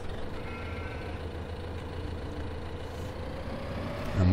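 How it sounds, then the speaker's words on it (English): A Stayer tractor engine in Farming Simulator 2015 runs with a steady, loud diesel drone that holds even throughout and swells slightly at the very end, with no talking. "We need to jump into this one, the stayer tractor."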